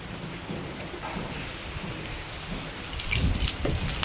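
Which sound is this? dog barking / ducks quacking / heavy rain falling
heavy rain falling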